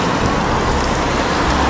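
Rain falls outdoors on a street in East Belfast, a dense, steady hiss of drops hitting surfaces, loud and close, with no voices.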